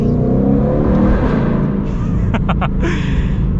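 A Ford Shelby GT500 Mustang with almost 800 horsepower drives along with a loud, steady engine roar that echoes around it, plus a few short higher bursts near the end.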